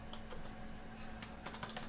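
Computer keyboard typing: a few faint taps, then a rapid burst of close, crisp keystrokes near the end, alone without talk.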